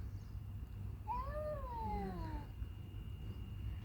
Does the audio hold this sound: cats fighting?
yes